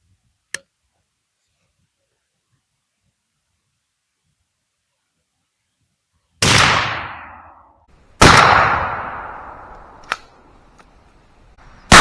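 A shotgun fires military-grade #00 buckshot outdoors: two loud, sharp blasts a couple of seconds apart, each trailing off in a ringing echo, with faint clicks before and after and silence leading in.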